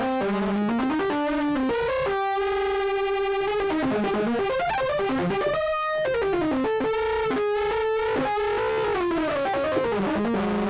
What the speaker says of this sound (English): And let's add a little overdrive too.